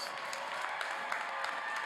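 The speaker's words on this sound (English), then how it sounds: "Let's give a big round of applause." An audience applauds at the SIUC 2021 spring university graduation commencement, a steady, even wash of many hands clapping at once, moderately distant and sustained for about two seconds with no break.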